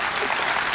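A church congregation claps in a brief, loud, dense burst of applause during a sermon.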